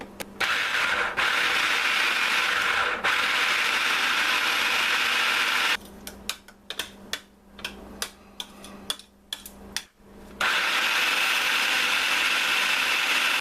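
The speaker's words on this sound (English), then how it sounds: "I'm going to whiz it up, scraping it down a couple of times." A blender whizzes salsa made with jalapenos, salt and pepper, giving a loud steady motor roar that breaks into stuttering pulses midway before running smoothly again, with no talking.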